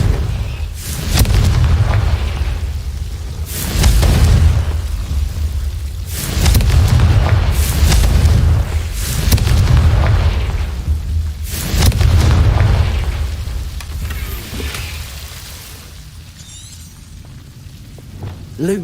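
Repeated heavy booming blasts from the Confringo spell in the Hogwarts Legacy video game, roughly five loud low explosions in a steady rhythm, each with a rumbling tail, fading near the end.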